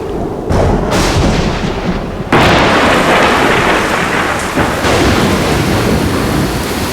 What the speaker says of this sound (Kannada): ಜೋರ್ ಮಳೆ ಬರೋ ತರ ಇದೆಯಪ್ಪ.